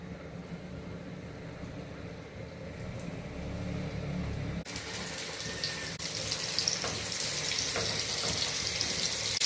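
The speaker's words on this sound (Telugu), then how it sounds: "ఇప్పుడు ఆయిల్లో వేపేసుకుంటున్నానండి" Marinated fish frying in hot oil in a home kitchen, a steady broadband sizzle that grows louder and brighter partway through and continues without pause, close up with no talk.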